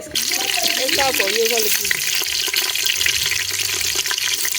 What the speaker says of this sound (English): No, we are going to fry the meat first.